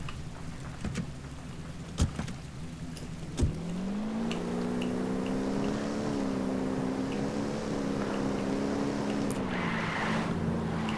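A car engine in the Ghost Recon Wildlands video game hums steadily, rising in pitch as it pulls away and then holding a sustained drone, with a couple of short knocks early on.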